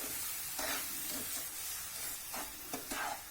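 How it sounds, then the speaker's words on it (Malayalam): Rava with sugar and milk is stirred in a pan for rava laddu, a quiet continuous sizzle and hiss with soft intermittent scraping strokes. "ഇനി ഇതിലേക്ക് കുറേശ്ശെ പാലൊഴിക്കുക എന്നിട്ടൊന്ന് മിക്സ് ചെയ്ത് കൊടുക്കുക"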